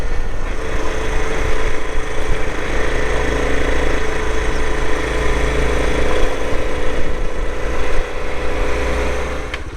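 A Honda CT110 Trail motorcycle being ridden, its small single-cylinder engine droning steadily and loudly close by, with wind and road noise mixed in and no talking.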